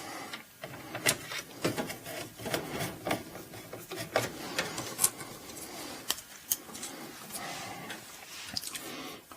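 Screws being driven into a PC workstation during a rebuild, with irregular close-up clicking, scraping and grinding of a screwdriver against metal, with no voices.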